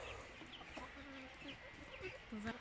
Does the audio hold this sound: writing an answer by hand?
no